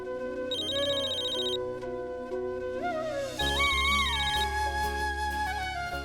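A phone ringtone plays during an outgoing call, a melodic electronic tune of bright sustained tones that shifts partway through and runs continuously at moderate volume with no voices.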